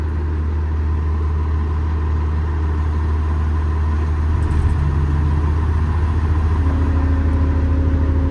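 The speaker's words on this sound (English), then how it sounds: "Just press this button twice to start the engine." The EnPak unit on a 2020 Kenworth T270 service truck starts up and settles into a steady, loud mechanical drone, with the engine tone shifting partway through as it runs. No one speaks.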